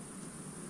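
A bee-like insect buzzes close by at night, a short, faint, steady drone in a quiet setting.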